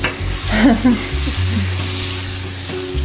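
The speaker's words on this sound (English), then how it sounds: "Now we're gonna let this cook on medium, just to create a little bit of a boil." Beef stroganoff sizzles softly in a pan over medium heat, a faint steady frying hiss under people talking close by.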